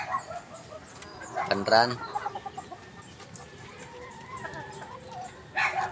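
An SBR gamecock stag, recently recovered and fresh from a win, gives a few short clucks close by, mixed in with someone talking and some background farmyard noise.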